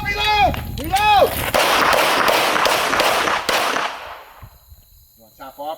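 Pistol shots ring out at an outdoor shooting range during handgun training, with several sharp reports in quick succession. Raised voices are heard before the shots, and quieter talk follows as the firing ends.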